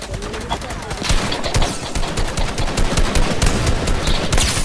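Rapid video game gunfire crackles in dense bursts throughout, with voices talking over the shooting.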